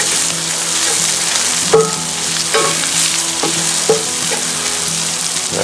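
Mushrooms, garlic and broccoli sizzle steadily in a hot cast iron pan, with a continuous frying hiss and occasional clinks and scrapes of stirring.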